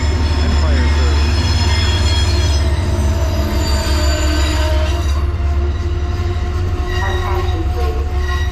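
An Amtrak Empire Service train arrives near Hudson and Catskill, New York, its wheels letting out loud, sustained metallic squeals over a heavy continuous rumble, close by throughout.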